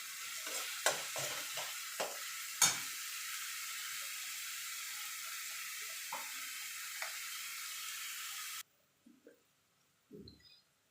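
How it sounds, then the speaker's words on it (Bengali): Garlic paste sizzles steadily in a hot pan for about eight seconds while a spoon scrapes and stirs in irregular strokes, then the frying cuts off and a few soft knocks follow. "এবার রসুন বাটাটাও মিনিট খানিক একটুখানি নাড়াচাড়া করে নেবো"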